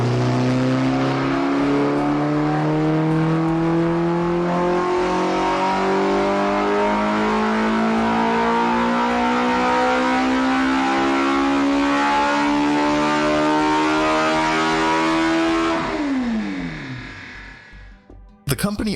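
A custom-built, high-revving 88 kg motorcycle engine from Radical Precision Engines climbs steadily in pitch for a long, loud rev, then drops sharply as the throttle closes, ending with a brief clatter.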